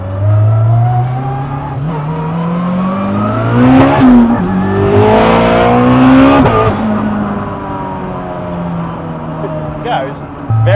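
An 800-horsepower Honda NSX with a K20 engine swap and sequential gearbox accelerating at full throttle, a loud close engine note climbing through rapid gear changes with tire noise, while people talk in the cabin.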